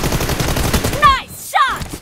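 Rapid gunfire bursts from PUBG Mobile, a team deathmatch on an iPad Pro 2020, crack out close and loud, followed by sharp metallic ricochet-like tones near the end.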